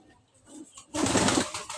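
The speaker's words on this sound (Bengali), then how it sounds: "দেখেন আমার কবুতরগুলো অনেক পছন্দের কবুতর।" Pet pigeons in a loft coo and flutter nearby, soft calls at first, then a louder burst of wing and body noise in the second half.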